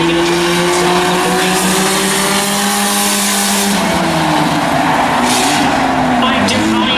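Race cars roar around a dirt oval during a claimers race, engines droning loud and continuous with pitch sweeps as cars pass and jostle, under an announcer's steady commentary.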